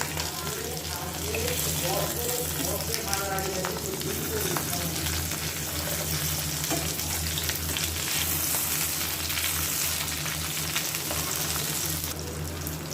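Pieces of ash gourd fry in hot oil in a pan, a steady loud sizzle and crackle with occasional stirring scrapes, continuous throughout with a low hum beneath.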